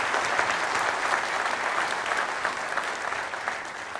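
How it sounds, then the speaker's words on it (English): A room full of people at a town hall meeting breaks into a collective round of applause, steady dense clapping at a moderate level that carries evenly for a few seconds with no voices over it. "So please join me for a collective round of applause."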